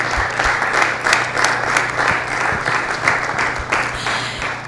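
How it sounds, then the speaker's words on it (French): Studio audience on the Gospel Tabernacle programme applauding to welcome guest pastor Henri Papa Mulaja, steady close clapping from a modest crowd, a few louder individual claps standing out over a low constant hum. "Nous vous prions de l'accueillir sous vos acclamations"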